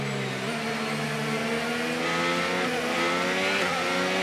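Formula 1 race car engine in the F1 25 racing game, a loud sustained high-pitched whine with steady harmonics that rise and fall slightly as the car holds speed through a race, with no other sounds.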